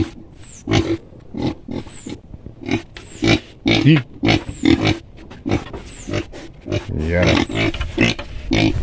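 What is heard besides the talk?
native pig grunting in a pigpen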